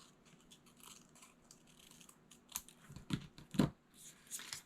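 Scissors cutting paper during a craft session with a striped umbrella punch, several faint snips and crisp rustles that grow louder toward the end, close and quiet with no talk.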